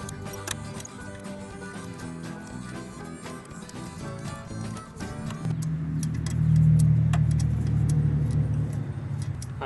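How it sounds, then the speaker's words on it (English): A passing car with a loud modified exhaust rumbles up from the background, swelling to a deep, sustained roar in the second half over faint ticking. "there are people with modified exhausts everywhere in this area"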